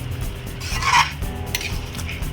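A utensil scrapes and stirs chicken curry in a pan with tomato and pepper, a short rasping rub rising to one louder scrape and then softer strokes, against a steady low background hum.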